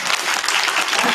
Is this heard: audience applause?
yes